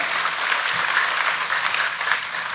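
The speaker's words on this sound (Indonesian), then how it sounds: "Kita kasih tepuk tangan yang paling meriah buat Tuhan kita." A church congregation breaks into a burst of steady, dense applause during a sermon, the full-room clapping loud and continuous throughout.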